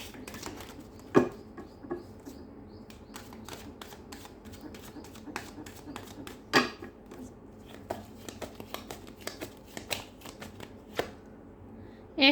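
Tarot cards being shuffled and handled, a patter of light papery flicks and snaps in uneven clusters with a few sharper slaps, close and fairly quiet.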